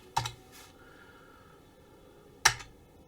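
Two sharp, separate keystrokes on a computer keyboard about two seconds apart, close and crisp in a quiet room with no talk.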